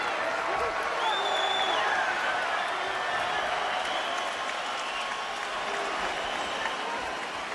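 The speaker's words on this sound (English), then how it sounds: "Crowd getting their money's worth." A boxing crowd at a heavyweight bout applauds and roars in a continuous dense wash of clapping and cheering, a broad noisy swell with faint whistles rising through it.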